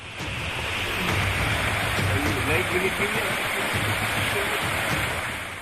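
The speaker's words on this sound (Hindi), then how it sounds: "पहाड़ी से घर की सीढ़ियों और छतों पर बहता आ रहा है मलबा।" Floodwater and debris pour down a hillside onto house steps and rooftops during heavy rain in Tehri, Uttarakhand, making a loud, steady, continuous rushing roar.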